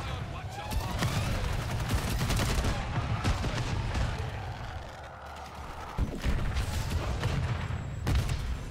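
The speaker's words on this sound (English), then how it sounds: "Now we're going to call this DNA bomb in." Dense gunfire and explosions from a DNA bomb killstreak in Call of Duty: Modern Warfare 3, a loud, continuous barrage of rapid shots and booms that fills the whole stretch, with a voice talking over it.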